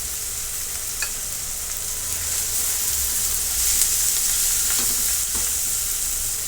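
Soybean mixture frying with Kashmiri chili powder and turmeric, a steady close sizzle with occasional scrapes and stirring knocks, growing slightly louder midway, no talking.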